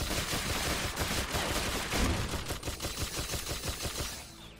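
Rapid gunfire from the co-op brawler game Full Metal Furies, a dense run of sharp repeated shots that thins toward the end, heard on its own with no voices.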